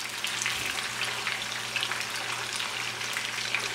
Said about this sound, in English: I'm just going to cook the fat down a little bit.